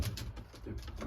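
Pigeons coo softly from breeding boxes, a few low, throaty repeated calls close by, with faint light rustling between them.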